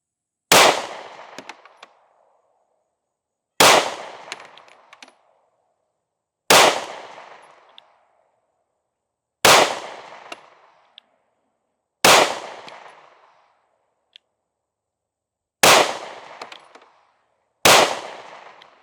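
Seven sharp gunshots from a compact Sig pistol fitted with a compensator ring out one at a time, each a loud close crack with a brief echoing tail, spaced two to three seconds apart outdoors.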